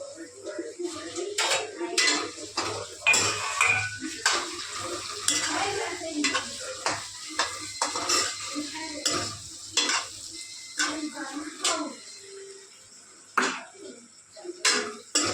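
Stuffed gunda (glue berries) going into a pan of hot oil with tomatoes, with a steady sizzle, repeated stirring and utensil scrapes and clinks against the pan, close and fairly loud, with no talk.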